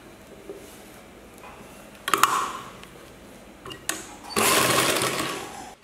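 A sewing machine stitching a chudithar top runs in short bursts, with a brief whir around the middle and a louder, steadier run near the end, over quiet room background.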